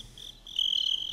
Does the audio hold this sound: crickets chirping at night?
yes